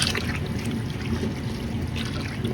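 Apple cider vinegar poured onto pork, a continuous close splashing trickle of liquid lasting the whole moment, steady and fairly loud.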